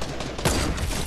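A single sharp gunshot in Fortnite rings out over dense, busy game noise and scattered firing, cutting through the mix about halfway through.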